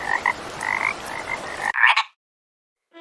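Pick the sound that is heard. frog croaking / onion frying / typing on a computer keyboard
frog croaking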